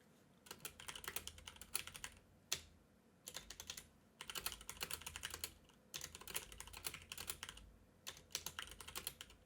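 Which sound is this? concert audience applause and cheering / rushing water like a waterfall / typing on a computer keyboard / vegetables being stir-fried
typing on a computer keyboard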